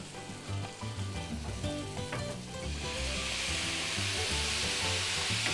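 Lemon juice poured into a hot frying pan with filleted croaker (ombrina) sizzles and crackles steadily, the frying hiss swelling louder and brighter midway and holding to the end, with no talk.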